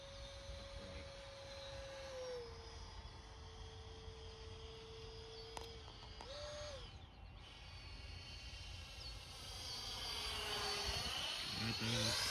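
A foam board F-18 model jet with an electric ducted fan makes a slow flyby, a faint, steady high-pitched whine that rises and shifts in pitch as it passes, heard from a distance outdoors.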